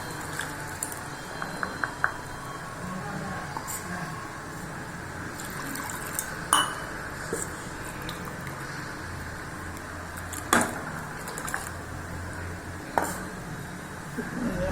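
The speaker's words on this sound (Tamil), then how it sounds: "தண்ணி ஊற்றிக்கோங்க" Water is poured into a simmering kurma curry in a pot, giving a soft continuous liquid rush with a few faint clinks, fairly quiet and without talk.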